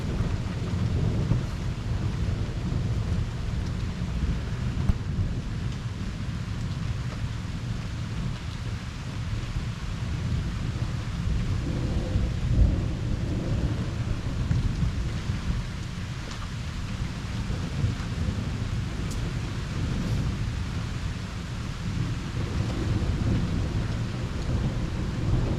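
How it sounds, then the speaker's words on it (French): A thunderstorm over Liège, Belgium with heavy rain: a steady dense roar of downpour throughout, with low rolling thunder swelling and fading beneath it, moderately loud and continuous. "On a eu un bon orage, enfin, un orage convenable, avec beaucoup d'eau."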